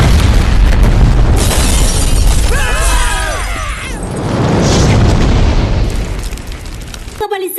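A bomb explosion in a film climax: a heavy, loud boom with shattering debris that rolls on for several seconds, then cuts off abruptly near the end.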